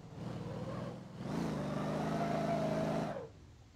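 A car engine in the driving game Motor Town cranks over and catches, then revs up and holds a steady, throaty idle-to-rev drone for a couple of seconds before cutting off, close and fairly loud.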